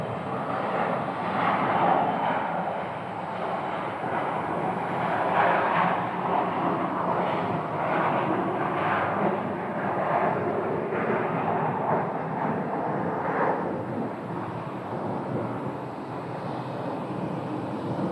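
An Embraer 135 regional jet at Phoenix Sky Harbor airport gives off a steady, loud broadband roar that holds through the whole stretch with slight swells, heard from the ground with no talking.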